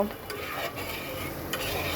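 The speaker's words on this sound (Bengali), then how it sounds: "এখন আমি মশলাটাকে সুন্দর করে দুই এক মিনিট একটু হালকা ভাজা ভাজা করে নেব" Spice masala frying and being stirred in a pan for a tengra fish recipe, with a steady close sizzle and light scraping of a utensil against the pan throughout.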